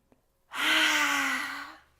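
A single long, deep yoga exhale released through the mouth during a gentle stretching session. It is close and breathy, lasts about a second and a half, then fades, with a tiny click just before it.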